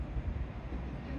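A train passes at Dawlish as a brief, steady low rumble with dense broadband noise, close and fairly loud, with no talk over it.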